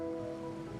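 Steady rain falls in the video game Wuthering Waves, a soft, continuous patter heard throughout under gentle sustained musical tones, with no voices.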